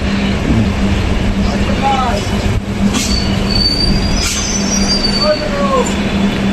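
A Sealdah–Diamond Harbour local train grinds along with high wheel squeals rising over a steady low rumble, the metallic screech repeating as it slows to a halt between Park Circus and Ballygunge, with faint voices in the carriage.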